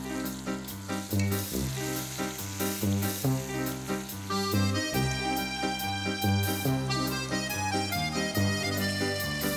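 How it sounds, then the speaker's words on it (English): Pork searing in a hot pan for a milk-braised dish gives a continuous close sizzle, layered under a rhythmic tonal background that runs throughout. "Now that is a good searing."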